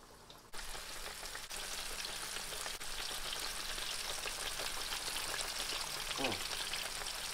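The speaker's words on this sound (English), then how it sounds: "Hear that sizzle," Tilapia fillets laid into hot oil give a steady, dense frying sizzle with crackling pops that runs throughout, close and moderately loud after a soft start.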